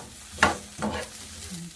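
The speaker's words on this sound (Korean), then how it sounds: "처음에 팬을 달군 다음에 식용유를 넣고 멸치 먼저 넣어서 기름에 멸치를 볶다가" Dried anchovies are stirred in hot cooking oil in a pan over medium heat, a close sizzling hiss with a couple of scraping stirs.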